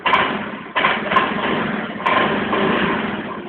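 A car engine idles steadily after being started by a remote-control alarm starter, with a low continuous rumble and a few faint clicks, heard alone without talk.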